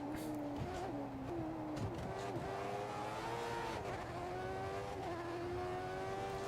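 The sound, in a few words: F1 race cars passing in F1 2014 video game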